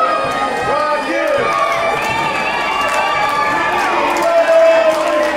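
A wrestling crowd at a Southern Honor Wrestling show sings an a cappella entrance tune, many voices chanting a sustained melody together amid cheers and shouts, loud and continuous throughout.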